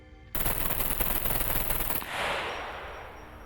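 A weapon in the SCUM video game fires full-auto in a rapid, loud burst of evenly spaced shots for about two seconds, then stops and an echoing tail fades away.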